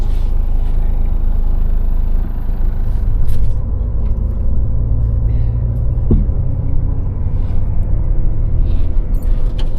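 Bus winding over the mountain ranges on a rural road in Laos toward the Mekong, its engine giving a steady low rumble throughout with a brief rattle partway through.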